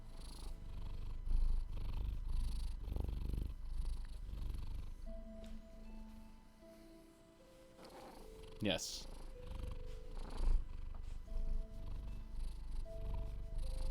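A cat purrs in a low steady rumble held close to the listener, heard under frequent talking and occasional other household sounds.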